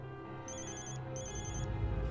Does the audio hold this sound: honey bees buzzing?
no